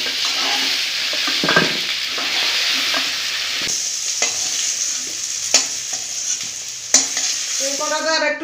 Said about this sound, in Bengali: তার জন্য আমি এইভাবে ভাজছি। পটল আলুগুলো ভাজা হয়ে গেছে